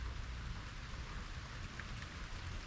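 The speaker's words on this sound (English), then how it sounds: "It's raining." Steady rain hisses continuously on surfaces, a dense even patter with no voices, moderately close.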